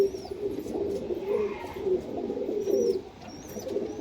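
Golden Pakistani high flyer pigeons coo steadily and close by, a low, throaty murmur rolling on without pause and with no voices.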